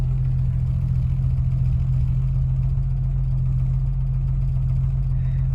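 An old car engine, started from cold with the choke just pushed in, idles steadily and fairly loudly with a deep, even low rumble throughout, alone with no voices.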